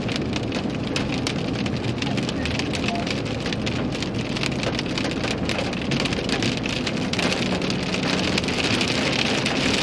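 Hail falling hard during a winter storm on slick roads, a dense, continuous, loud clatter of many small impacts drumming on a surface close by, steady throughout with no voices.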